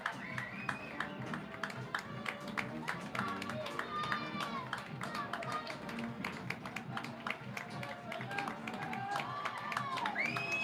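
Basketball crowd at a tense end-of-game moment cheering and clapping steadily throughout, a dense roar of voices with sharp claps and taps on top, loud and continuous, with some talk mixed into the din.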